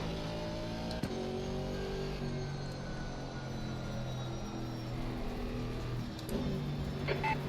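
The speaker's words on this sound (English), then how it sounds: "Faster cars approaching." Faster race cars approaching in Assetto Corsa Competizione, with a steady engine drone and rising whine building from behind under constant road and wind noise.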